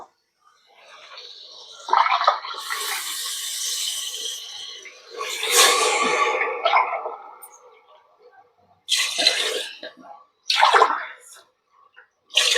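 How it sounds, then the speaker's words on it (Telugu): Water poured from a glass into a pressure cooker holding rice, with several splashing pours of varying length separated by pauses, close and fairly loud, no talk. "ఈ గ్లాస్తో తీసుకున్నానండి నేను బియ్యం దీంతోనే వాటర్ తీసుకున్నాం"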